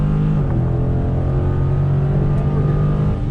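A Dodge Challenger R/T Scat Pack V8 pulls hard down a drag strip, a loud continuous engine roar climbing steadily through the gears, close and alone with no voices.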